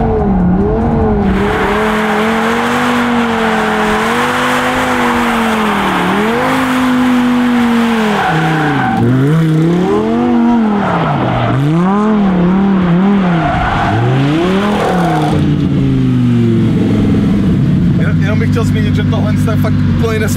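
A Lamborghini Huracan Evo doing a burnout on fresh tires: a loud, sustained engine wail rising and falling with repeated revving, mixed with tire squeal and a few voices underneath.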